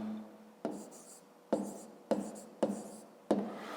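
A pen writes a short note on paper in a series of five quick, sharp strokes with brief scratchy tails, close and quiet.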